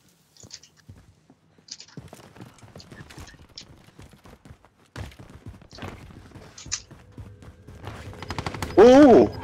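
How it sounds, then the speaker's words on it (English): Gunfire crackles in a shooter video game match, with scattered sharp shots and bursts spread across the clip, fairly faint against other game noises and footsteps. "Someone shooting at me."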